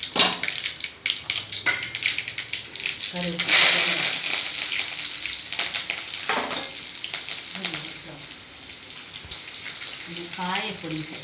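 Mustard seeds crackle and pop in hot oil while a vegetable stir-fry is prepared in a home kitchen, a steady bright sizzle with a sharp burst of spattering partway through, and a voice speaks intermittently over the frying.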